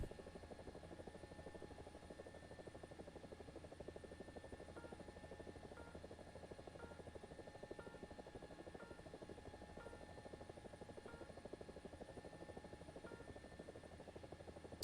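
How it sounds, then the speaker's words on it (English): A recon drone flying in War Thunder, a steady low rotor-like buzz with a faint, even pulsing, sustained and fairly distant throughout with no voices. "No, that's a recon drone."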